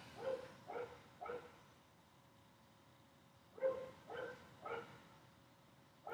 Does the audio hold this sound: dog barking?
yes